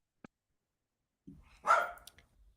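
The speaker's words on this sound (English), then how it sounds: "my dog's barking" A dog barks once nearby in a quiet room, a short sharp bark with a faint gruff lead-in, followed by silence.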